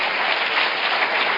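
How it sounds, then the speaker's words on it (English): An audience at a conference conversation on the power of crowds claps in a brief, dense burst of applause, steady and fairly close with no speech. "So a big applause for them."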